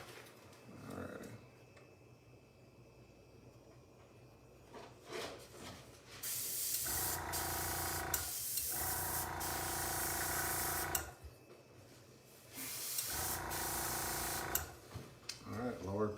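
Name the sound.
spray gun spraying white paint on RC car body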